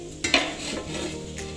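Spoon turning thick ground-meat pizza in a frying pan over medium heat, a couple of close scraping strokes over a soft steady sizzle, brief and moderately loud, with no voices.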